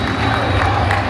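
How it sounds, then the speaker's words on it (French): Football supporters in a stadium applauding their team after a defeat, a broad wash of crowd noise and clapping that holds steady and fills the stands. "c'est beau de voir une équipe qui se fait applaudir par ses supporters après une défaite"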